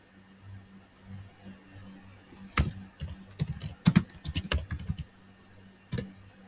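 Fairly quiet bursts of typing on a computer keyboard as a line of Java code is entered, with scattered clicks turning into a quick run of keystrokes and one last tap.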